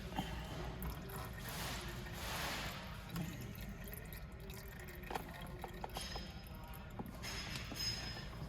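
Old engine oil draining from a Lifan KPX 250 dual sport motorcycle, a faint trickle and drip with light metallic creaks and clicks over low background noise.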